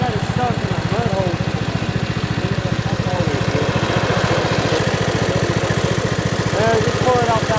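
A Husqvarna engine chugs with a steady, rapid low pulse, coming in to pull out a John Deere stuck in a mud hole; voices talk over the running engine throughout.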